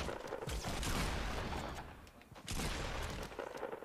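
Bursts of automatic gunfire in an online shooter game, loud and dense for several seconds, briefly dipping before another volley.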